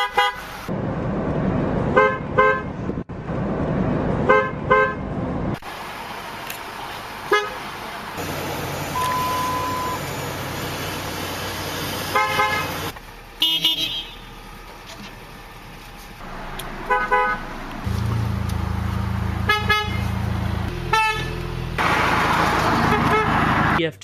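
Car horns honking in a series of short, repeated toots separated by gaps, loud and close, over the hum of a running engine, with occasional speech in between.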